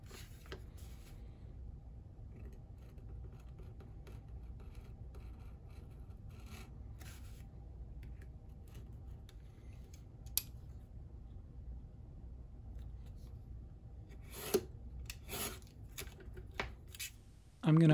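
A knife slicing partway into leather for a trowel holster, a steady low rubbing rasp of the blade drawing through the hide, close and quiet, with a few sharp ticks and scrapes near the end.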